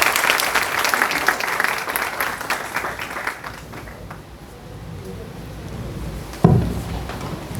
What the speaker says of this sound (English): A huge round of applause for our director sir.